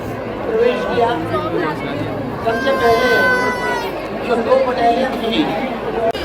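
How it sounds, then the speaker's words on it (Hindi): Dense crowd chatter at a busy outdoor fair in Uttarakhand, many overlapping voices close by and steady throughout, with a nearer voice now and then above the babble. "बहुत भीड़ हो रही है गाइस"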